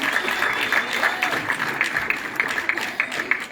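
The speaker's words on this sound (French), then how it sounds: "On applaudit." An audience applauds at a Paris evening event celebrating African TV series, with dense, steady clapping filling the room throughout at a moderate level.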